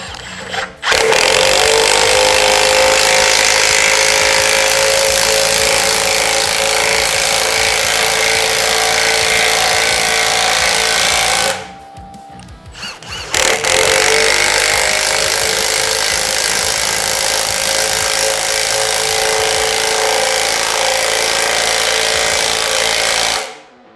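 A Milwaukee M18 FUEL 1/2-inch cordless impact wrench drives an M9 coach screw, hammering loudly and steadily at close range. Two long, continuous runs are split by a brief pause, with no voices.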